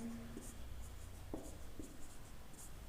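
Writing on a board during a Hindi-language physics lesson on flotation, heard as faint scratchy strokes and taps over a steady background hiss in a quiet room.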